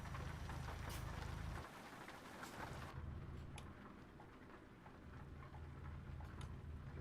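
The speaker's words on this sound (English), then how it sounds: "Oh, also, it's possibly raining." Steady rain in Euro Truck Simulator 2 while driving a truck west from Eastern Europe, a continuous broadband patter with a low engine rumble that drops out briefly, then returns.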